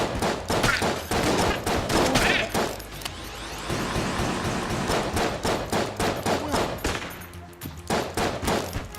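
Rapid bursts of gunfire from a shotgun and other weapons in the roguelike shooter game Enter the Gungeon, loud dense volleys with brief pauses and a faint voice talking underneath.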